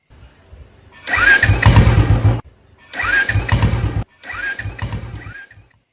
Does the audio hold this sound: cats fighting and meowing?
no